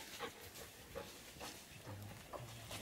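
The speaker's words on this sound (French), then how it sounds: "c'est les chiens de ton mec." Dogs barking at a caravan, several short, fairly faint barks spaced roughly half a second apart, with low grunting sounds and quiet background noise in between.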